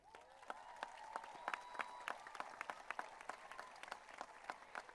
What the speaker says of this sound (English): Recipients, please stand and please give them a round of applause